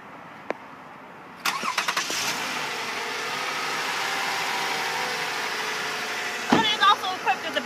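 A 2012 Toyota Sienna minivan starts up with the hood open: a click, then the cranking catch and a brief rev settling into a steady idle, followed by another short burst of revving near the end, close by with no talk.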